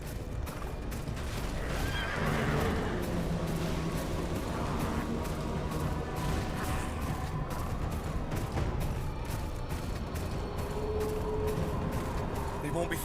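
Horses whinny and neigh amid a busy Game of Thrones: Kingsroad game soundscape with hooves and distant gunfire, while voices talk over the top.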